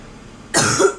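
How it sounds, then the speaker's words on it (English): A single sharp, close cough bursts out halfway through after a quiet stretch, rough and breathy, with no talking. "I keep coughing too, which is weird."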